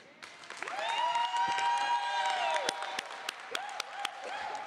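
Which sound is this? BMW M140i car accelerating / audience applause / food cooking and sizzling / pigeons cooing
audience applause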